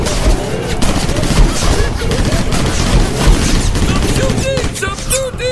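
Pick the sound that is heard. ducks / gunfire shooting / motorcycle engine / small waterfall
gunfire shooting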